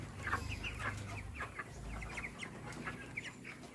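Broiler chickens about 30 days old, housed in an open stilt coop, give off a steady scatter of soft clucks and chirps, many birds calling close by over a low background hum.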